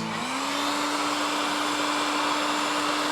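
A heat gun or hair dryer blows a loud, steady whirring hum at close range as it warms a sticker on a motorcycle, unbroken throughout.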